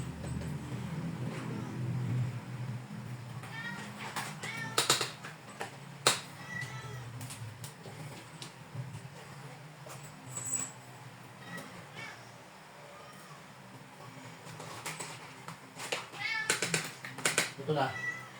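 Persian cats meow intermittently at feeding time, short bright calls scattered over household noise and clatter, with people talking nearby throughout.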